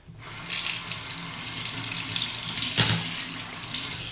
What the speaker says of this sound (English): Just a quick face rinse.